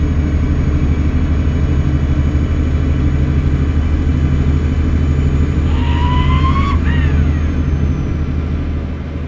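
Heavy truck engine in Euro Truck Simulator 2 drones steadily throughout at a loud, constant level, with a brief rising whine layered over it near the end.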